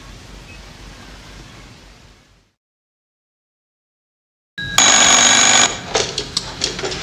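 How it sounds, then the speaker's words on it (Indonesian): A telephone rings loudly with a bright, sustained electronic tone after a stretch of faint hiss and then complete silence, the ringing breaking into a few shorter bursts at the end. "Mark pun semakin syok saat mendapat telepon dari Anna"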